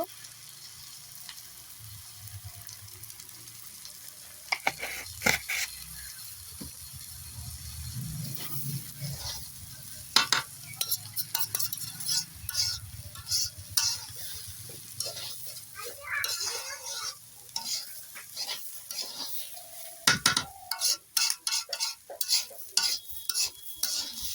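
Pulao rice frying in a pan for coriander chicken pulao, with a low sizzle under repeated spatula scrapes and sharp clicks against the pan that become busier and more rhythmic toward the end.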